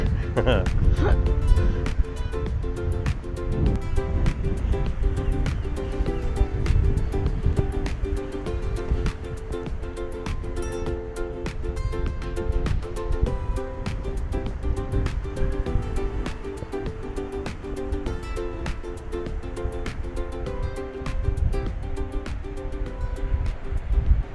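Gusty wind buffets the microphone beside breaking waves at Kynance Cove in Cornwall, a continuous loud rumble with surf beneath while people talk over it.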